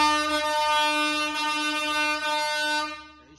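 A loud, sustained multi-tone marine air horn on a truck blasts steadily for about three seconds, rich and brassy, then cuts off abruptly.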